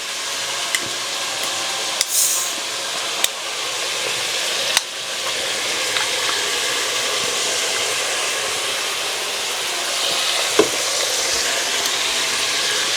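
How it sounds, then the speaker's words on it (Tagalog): Tomato, garlic and ginger sautéing in a pan for Filipino pinakbet, giving a steady, loud frying sizzle and hiss throughout, with a few faint clinks of stirring and no talking. "Gigisa mo yung kamatis"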